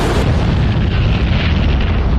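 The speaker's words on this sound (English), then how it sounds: "There are quite a few explosions on there." A dense, roaring explosion rumbles in a DCS World flight simulator near an aircraft carrier, loud and sustained with a broad low-end boom and no voices.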